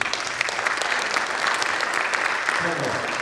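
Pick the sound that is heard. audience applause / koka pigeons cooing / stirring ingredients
audience applause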